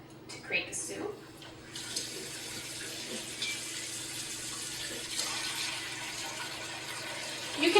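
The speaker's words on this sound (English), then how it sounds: "we're going to remove the pot and add some water to it to create the soup" Water pours into the removable inner pot of a Gourmia BT900XL5 electric pressure cooker while making soup, a steady running splash that continues throughout, after a few brief knocks of handling at the start.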